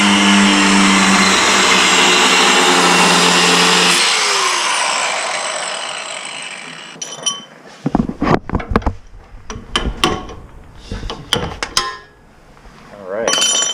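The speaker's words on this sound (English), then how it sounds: "But yeah, got to cut it off." On an Mk6 coilover install, a power tool cuts off a part with a loud, steady high whine that runs about four seconds and then tapers away. Talking and handling noises follow.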